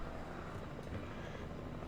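A helicopter drones steadily in the Alan Wake video game, a continuous rotor and engine hum at low level with no talk over it.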